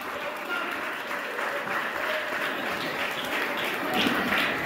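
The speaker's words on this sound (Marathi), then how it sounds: "रवी वाघ सरांसाठी एकदा जोरात टाळ्या वाजवायच्या आहेत." An audience at a karate club event breaks into a steady round of applause, many hands clapping together in a dense, continuous patter that swells slightly toward the end, with some voices mixed in.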